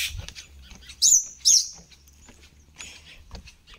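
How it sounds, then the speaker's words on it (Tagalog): Small birds by a lake in Henderson, Auckland, New Zealand give two bright, high chirps close together near the start, with softer twittering and faint outdoor ambience around them. "Marinig natin yung ingay ng mga ibon at saka huni ng mga ibon"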